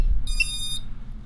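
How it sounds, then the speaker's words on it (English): A buzzer on a drone flight controller gives a short high-pitched electronic beep, close and clear, over a low background hum with no speech. "Let's show you what the buzzer does."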